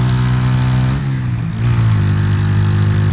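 A motorcycle engine roars loudly and steadily while riding, with a brief dip in drive around the gear change before it pulls again and keeps droning close up.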